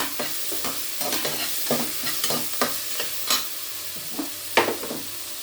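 Curry leaves sizzle in hot oil in a pot while being stirred: a steady hiss with scraping strokes and a few sharper taps, close up, no talking.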